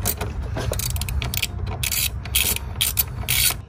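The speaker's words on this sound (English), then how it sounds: "just a ratchet and go ahead and take them off" A ratchet with a long socket and extender loosens bolts on a BMW 340i during a strut bar install. It gives bursts of rapid metallic clicking, close by, in uneven spurts with short pauses between.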